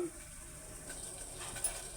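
A pot of water with jaggery for ragi java bubbles at a boil, giving a faint, steady hiss and crackle with no talk.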